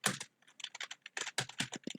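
Rapid keystrokes on a computer keyboard, close and clear, in irregular bursts of clicks with short pauses between, no voices.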